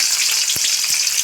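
Green chillies fry in hot oil with a dense, loud, continuous sizzle, a couple of soft stirring knocks coming through underneath.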